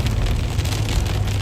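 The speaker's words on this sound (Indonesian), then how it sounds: "hujan sangat deras" Heavy rain pours down in a steady, dense roar, loud and close with no breaks, like a downpour drumming on surfaces nearby.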